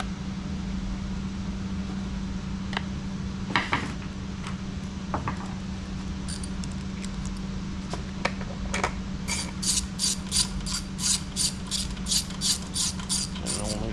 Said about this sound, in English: Phillips head screws back in.